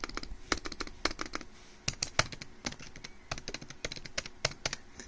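Fingers type on a Lenovo ThinkPad X260 laptop keyboard: rapid, uneven bursts of crisp key clicks, close and clear, with no talking.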